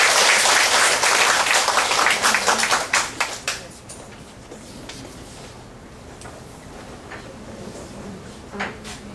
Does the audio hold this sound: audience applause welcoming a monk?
yes